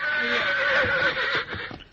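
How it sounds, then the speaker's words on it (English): A horse whinnies loudly in an old-time radio Western drama, a long shrill neigh that fades into shorter snorting breaths, with a few faint hoof-like thumps beneath it. "Get on that horse."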